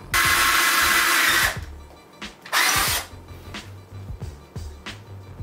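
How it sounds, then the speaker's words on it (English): A power drill whines loudly in a long sustained burst drilling a hole into an office floor, stops, then runs again in a shorter second burst, with quieter handling noises between. "I'm gonna drill the other."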